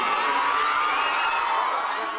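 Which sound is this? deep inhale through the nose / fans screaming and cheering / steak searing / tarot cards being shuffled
fans screaming and cheering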